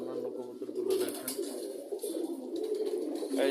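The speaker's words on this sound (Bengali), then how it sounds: "এই দেখেন রোদের মধ্যে ওরা ডাকাডাকি করতেছে।" Pigeons in a loft on a sunny winter morning coo busily up close, overlapping throaty calls rolling on without pause, a faint low hum in the background.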